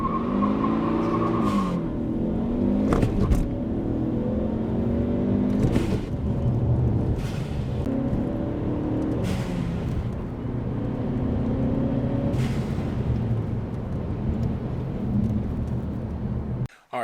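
Tuned Ford Focus ST engine revving and accelerating, a loud steady drone with rising and falling pitch sweeps and a few sharp bursts, running continuously close by with no talking.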